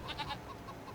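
Goats bleating in Farming Simulator 25, a few short nasal bleats close by at a modest level with no talk over them.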